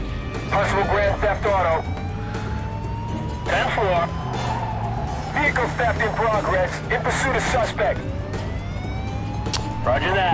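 A police car siren wails in the Mafia II video game, rising and falling faintly beneath a running car engine while someone talks loudly over it.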